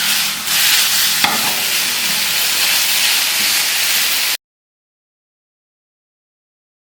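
Chicken frying with spices in a pan as it is stirred, a loud, close, continuous hissing sizzle with a brief scrape, then cut to silence after about four seconds.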